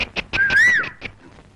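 A person gives one brief whistle that rises then bends down over under a second, set against a few rhythmic tapping knocks.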